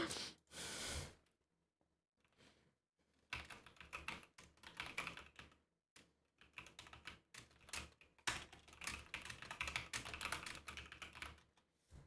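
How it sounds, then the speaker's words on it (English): Quick bursts of typing on a computer keyboard, soft, close clicking in irregular clusters with short pauses, along with faint breathing and a sigh. "You guys would probably hear me typing."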